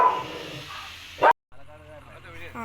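A household dog gives a short, loud bark nearby, followed by a brief gap and then people talking.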